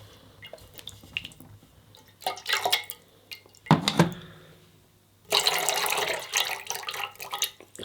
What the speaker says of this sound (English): we're going to just wet the brush